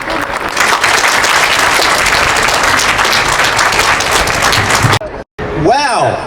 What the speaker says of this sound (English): please give him a big round of applause in welcoming Mr.